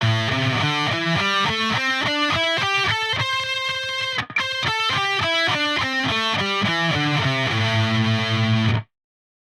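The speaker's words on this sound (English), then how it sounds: "So the minor pentatonic scale, if we were to lay it out, looks like this. And it sounds like this." Distorted electric guitar runs up and down a minor pentatonic scale, each note struck clearly in a steady rhythm, loud and close with no talking, ending abruptly.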